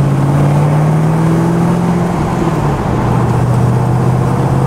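A tuned car engine, set up with HP Tuners and running a little lean, drones loud and close at a steady note, its pitch sliding slightly as the revs shift, with no talking.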